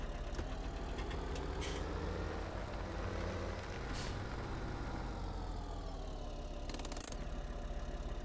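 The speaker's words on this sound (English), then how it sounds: "Let's get the tractor out of the way." A tractor engine runs steadily while the tractor is being moved, a loud continuous rumbling drone that fills the whole stretch, with a few brief hissing bursts on top.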